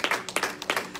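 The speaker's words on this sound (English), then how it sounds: "A good resounding clap." A church congregation claps in a quick, steady rhythm during a sermon, each sharp clap landing close and loud in a short burst of three beats.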